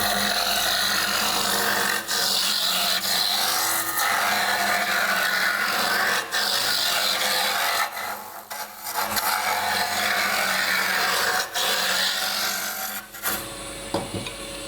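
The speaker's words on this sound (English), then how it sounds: "this is a 3/4 gouge, and this is going to do most of the shaping on this turning" A 3/4 gouge shaping a wood turning on a lathe for a hand-made Windsor chair gives a steady close rasping scrape with no break, easing off briefly near the middle and dropping away at the end.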